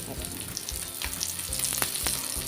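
Spiced surmai (kingfish) slices frying in oil in a flat pan over high heat: a loud close crackling sizzle with a few spatula scrapes, and no talk.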